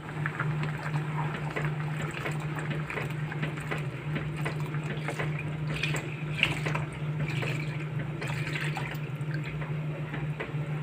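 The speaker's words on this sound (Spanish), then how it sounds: "Ahora le vamos a echar la leche." Milk pours into a cooking pot for a pineapple dessert, making a continuous liquid rush with a low steady hum behind it, unbroken and fairly loud for the whole stretch.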